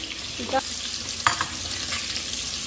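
Okra frying in oil in a pan with salt and turmeric gives a steady, close sizzle, broken by a couple of brief stirring scrapes, with no talking.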